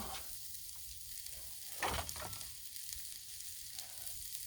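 Sausage sizzles faintly on a hot Blackstone griddle outdoors, a soft steady hiss with one brief louder burst of crackling partway through.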